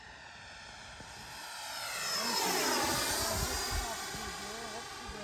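An FMS 80mm Integral RC ducted-fan jet on its maiden flight makes a high whining roar that grows louder and sweeps in pitch as it passes close, then eases slightly while staying in the air.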